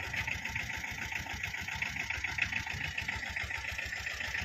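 A 2012 Tata Ace small truck's engine runs at a steady idle, a quiet, rapid, even clatter that never changes pace.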